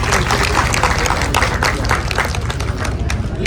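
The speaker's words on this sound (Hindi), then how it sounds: "जोरदार ताली।" Loud, dense clapping from a packed multiplex cinema audience at a Chhattisgarhi film screening, steady and continuous throughout.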